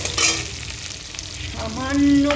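Potatoes fry in a pan with a steady broadband sizzle, and a few brief stirring scrapes rise near the end; the sound is close and moderately loud, with no talking.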